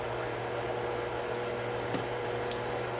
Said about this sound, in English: going to turn our vent fan on high